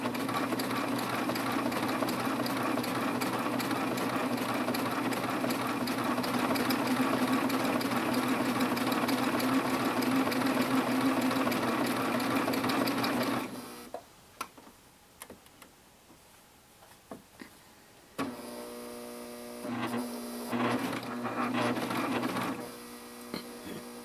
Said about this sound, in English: I'm just going to turn my fabric to the side and sew off.